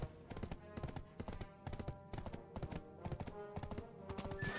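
Steady, rhythmic clip-clop of horse hooves trotting at a brisk pace in the video game Black Desert Online, close and continuous, with a soft background hum.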